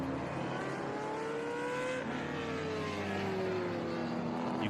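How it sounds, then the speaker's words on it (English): American muscle race cars lap Mid-Ohio in SVRA racing, their engines heard from a distance as a loud, sustained roar whose pitch climbs and falls as the cars accelerate and lift through corners. "they just love American muscle cars. Yeah, they do sound good."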